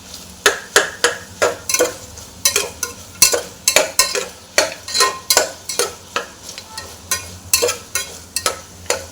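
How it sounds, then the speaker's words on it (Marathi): Vegetables such as potato, tomato and eggplant fry for dal-rice khichdi, with rhythmic scraping stir strokes of a spoon in the pan repeating every half second over a faint sizzle. "व्यवस्थित थोडंसं आपण फ्राय करून घेतलेलं आहे"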